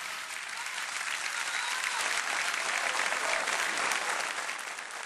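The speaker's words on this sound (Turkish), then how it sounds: "Büyük bir alkış efendim." Sustained applause from a large audience after a Turkish classical music concert at Ankara Radio, dense and even, clapping steadily for several seconds without pause.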